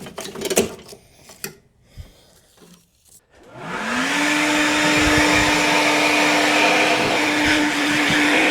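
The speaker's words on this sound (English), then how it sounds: "get a blower and see if I can blow most of this gunk off" A blower clears gunk off a riding mower deck. Scattered knocks and clatter come first, then the blower starts up and runs loud and steady, its whine rising to a constant tone.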